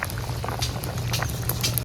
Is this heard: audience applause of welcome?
no